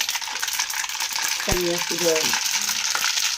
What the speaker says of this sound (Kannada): ಈಗ ಸಾಸಿವೆ ಹಾಕ್ಕೊಳ್ಳೋಣ. ಸಾಸಿವೆ ಎಲ್ಲ ಸಿಡಿದ ಮೇಲೆ